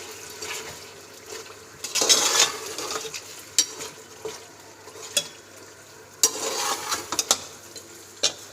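A spoon stirs beef karahi with ginger paste and green chilli paste in a pan, giving soft scraping and clinking strokes over a low, quiet sizzle, with a few sharper knocks.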